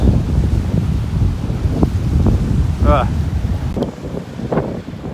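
Wind buffeting a camera microphone on a beach in North Naples, Florida, a loud continuous rumble with gusting swells, faint surf and brief bird calls under it.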